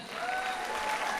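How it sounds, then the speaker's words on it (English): Brief burst of applause from a crowd at a welcome program, even clapping heard from a short distance. "Let's have a big round of applause for them."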